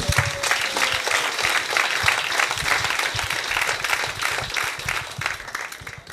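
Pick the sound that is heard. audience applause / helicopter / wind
audience applause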